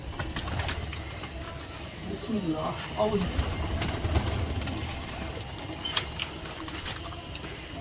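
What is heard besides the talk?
Teddy pigeons cooing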